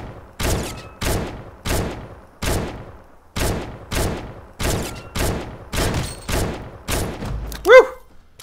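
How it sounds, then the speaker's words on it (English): Rapid bursts of gunfire in the Fortnite mobile video game, about a dozen sharp, evenly spaced shots close up and loud, with no talking over them. "Let's see if I can actually get a few shots on him."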